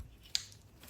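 An LED lighting connector snapping into place on a distribution hub: one short, crisp plastic click, faint and close, over a quiet background.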